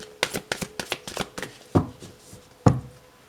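Tarot cards are shuffled up close in a rapid string of papery riffles and flicks. Two firmer slaps follow as the deck is cut, with no talking.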